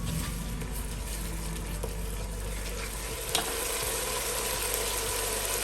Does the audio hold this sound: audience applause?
no